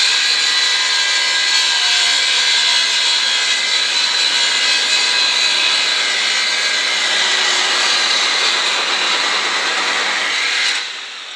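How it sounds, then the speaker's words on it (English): An abrasive chop saw and a large angle grinder cut and grind 4x4 steel together, powered by a Milwaukee Roll-On power station generator through 200 feet of extension cord: a loud, steady, high whining roar that holds throughout and eases off at the end. "with an abrasive chop saw. Along with that, the large angle grinder is also going to be grinding that same 4x4 steel as well"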